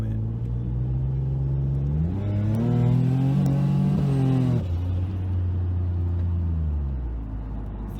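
A widebody Nissan 350Z with a turbo engine accelerates from inside the cabin, with a deep rumbling drone whose pitch rises as it revs hard, then falls back to a lower steady hum as the throttle eases.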